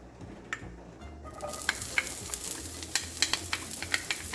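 Diced onions hitting a hot skillet slicked with avocado oil: a quiet start, then a crackling sizzle builds with scattered sharp pops and spatters, close and continuous, with no talking.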